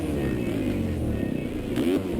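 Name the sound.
motorcycle engine revving in MX Simulator video game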